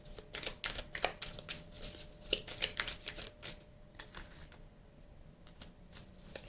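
Tarot cards shuffled and drawn, a run of quick papery riffles and flicks close by, clustered in busy bursts and then thinning to scattered soft snaps, with no talk over them.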